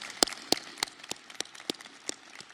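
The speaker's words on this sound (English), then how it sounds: "I just want to give him a round of applause for the sacrifices he made" Sparse, uneven handclaps from a small audience at an Illinois state budget signing event, roughly ten distinct claps spread over a few seconds, faint and without any voices.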